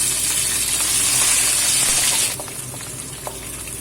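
Winter melon stir-fried in a hot pan gives a loud steamy hiss that drops abruptly to a quieter sizzle, with faint scraping of the spatula as it is turned.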